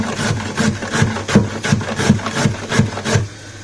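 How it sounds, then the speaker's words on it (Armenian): Two carrots rubbed on the coarse side of a grater, making loud, close rasping strokes in a steady rhythm of about two per second, with no talking. "մենք գազար ենք հարում, հա, ճորկա ենք անում, մեծի վրա,"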